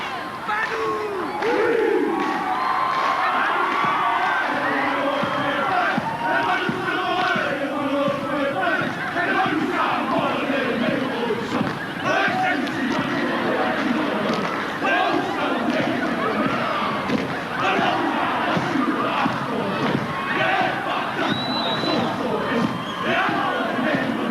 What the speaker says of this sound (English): Plenty of support from the huge crowd here.